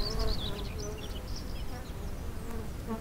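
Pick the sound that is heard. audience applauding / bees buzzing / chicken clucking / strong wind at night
bees buzzing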